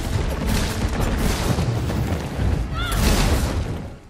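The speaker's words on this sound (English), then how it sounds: "There are already a bunch of explosions and fire happening anyways" Explosions and burning fire in a Resident Evil video game fill the clip with a continuous, loud, rumbling roar of blasts and crackle, swelling again near the end.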